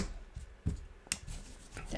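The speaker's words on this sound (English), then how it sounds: "let's give them one more shuffle." Plastic board game tiles being shuffled by hand on a table, a few quiet clicking clatters and rustles in short bursts, faint and close.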